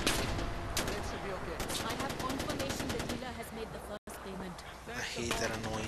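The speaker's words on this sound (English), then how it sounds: "I hate that annoying shooting in the air bullshit" Far Cry 4 gunfire fired into the air, rapid bursts of machine-gun shots in dense volleys with sharp repeated cracks over game ambience, someone talking over parts of it.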